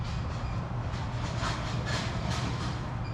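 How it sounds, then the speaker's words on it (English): An aluminum trailer rattles over bumps, with steady low rumbling and repeated clattering bursts about every half second, fairly loud and continuous, with no voices. "Oh, it's just somebody's trailer. Probably hit some bumps over there."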